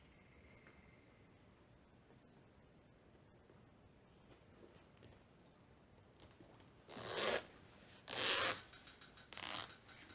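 A zipper slider is drawn along a bag's zipper in a few short, crisp rasping strokes, close and distinct against a quiet room.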